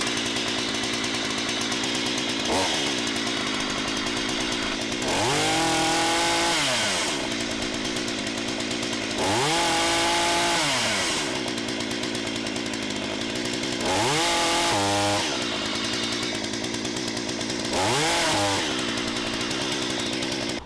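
A Hyundai chainsaw idles with a steady buzzing rattle, then revs up hard several times in repeated bursts, its pitch swooping up and down with each trigger pull, loud and close with no talking.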